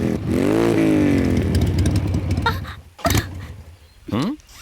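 Motorbike engine in a film scene, starting with a rising rev that slides and sputters, followed by clattering bursts and a short final rev. Voices are faintly audible around the engine.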